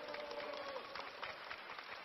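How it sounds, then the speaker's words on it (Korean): A studio audience applauds to welcome a guest doctor onto a Korean TV quiz show, a steady wash of clapping holding at an even level for about two seconds. "박수로 환영해주세요."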